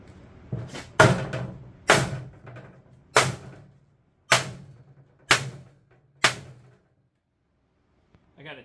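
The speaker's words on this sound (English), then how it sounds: "I got a 2x6 under here we're beating against." Metal race car body panel on an IMCA Modified being pounded against a 2x6 board: seven sharp, loud hammer blows at uneven intervals, each ringing briefly, then quiet.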